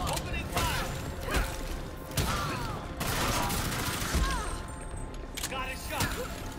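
Gunfire in the video game Gotham Knights, heard as dense, rattling bursts of shots with mechanical clatter that run nearly nonstop. Voices call out over the firing.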